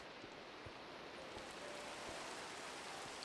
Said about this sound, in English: It's a nice rainy afternoon to be building.